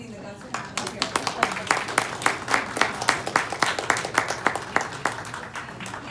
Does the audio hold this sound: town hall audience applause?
yes